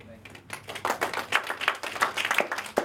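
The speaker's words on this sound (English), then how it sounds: "Give David a big round of applause." A small audience claps for David at a success-coaching talk, scattered individual claps building into an uneven round, fairly close, with voices murmuring underneath.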